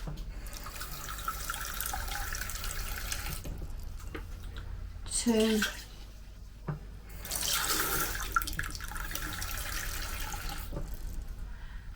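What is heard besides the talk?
cups of water poured into Cosori pressure cooker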